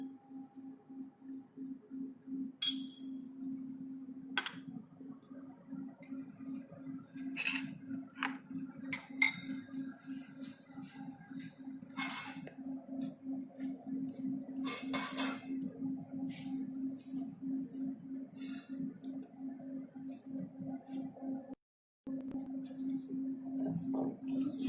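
Mixing a sauce of ketchup, mustard and paprika with parsley: a fast, steady rhythmic tapping and clinking of a utensil against a bowl, close and fairly quiet, with occasional louder clinks and a brief pause near the end.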